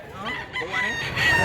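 A rooster crows once, near and fairly loud, at a chicken market, the drawn-out call rising toward its end over faint background murmur.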